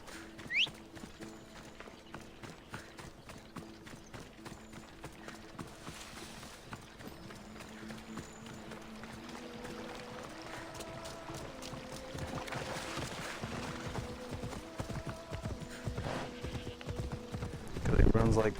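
Rhythmic hoofbeats of a horse in Assassin's Creed Odyssey clip-clop steadily for a long stretch, with background music and a voice talking over them, growing louder toward the end.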